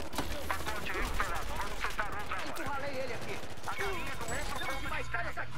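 Rapid gunfire from a Brazilian online shooter game rattles in dense bursts, loud and near, layered over constant game noise, with players talking excitedly throughout.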